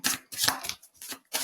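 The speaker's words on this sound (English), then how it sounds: "For some reason I'm feeling like I still need to shuffle" Tarot cards being shuffled in several quick riffling bursts with short pauses between them, close and clear, no talking.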